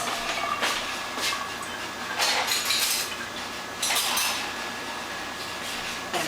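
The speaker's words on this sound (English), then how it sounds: "let me get a spoon for this" A metal spoon clinks against a pot and cutlery in a home kitchen while Puerto Rican yellow rice with sausages is being made, with a few bright scraping clatters over a steady background hum.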